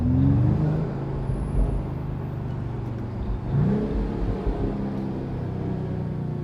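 A 2025 Mercedes-AMG CLE 53 runs in Sport Plus mode with its exhaust valves open, giving a steady low engine drone with a couple of rising revs, heard close and with no talking.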